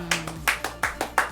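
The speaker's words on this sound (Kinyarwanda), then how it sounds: "amashyi rwose kuri Kuba" A few people clap at a celebration, about six distinct claps spaced evenly in a quick rhythm, close and fairly crisp, with a voice faintly underneath.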